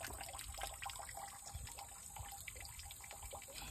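Water from a solar-powered pump in the countryside flows steadily into a drum, a constant splashing, gurgling rush with no pause, fairly faint and heard with no talking.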